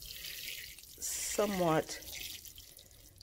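Water is poured into a bin of European nightcrawler worms, a short splashing trickle lasting under a second, followed by a brief voice.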